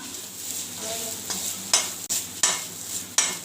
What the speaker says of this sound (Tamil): துருவி வச்சு தேங்காயை கொட்டிக்கலாம் கொட்டி வதக்கிக்கலாம்